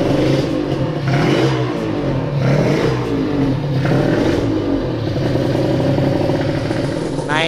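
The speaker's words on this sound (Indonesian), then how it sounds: "Nah, ini udah nyala lagi motornya." A restored Honda NSR two-stroke motorcycle fitted with an aftermarket silencer runs close by, its loud engine buzzing and revving steadily with a raspy, clattering tone.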